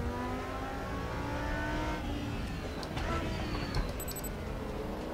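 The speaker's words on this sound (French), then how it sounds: "Je vais vous laisser profiter vraiment du son de la voiture" An Audi R8 LMS GT2 2019 race car engine in a racing video game drones steadily at high revs, with a continuous loud whine and slight pitch shifts, heard alone without talk.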